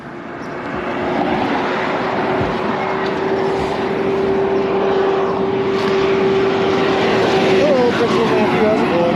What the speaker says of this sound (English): Sorry, loud garbage truck coming by at the same time.